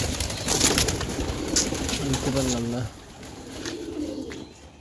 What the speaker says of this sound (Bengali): এই যে উপরে যে পায়রাটা বসে আছে